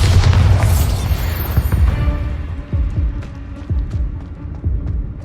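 A Bombarda explosion spell goes off in Hogwarts Mystery, a loud booming blast at the start followed by a run of softer thuds and pops.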